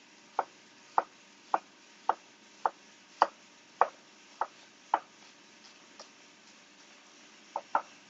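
A knife chops an onion finely on a cutting board, with about a dozen crisp, evenly spaced taps in a steady rhythm, close and clear with no talking.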